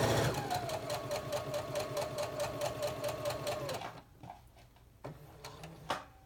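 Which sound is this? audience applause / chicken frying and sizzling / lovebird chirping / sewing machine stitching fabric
sewing machine stitching fabric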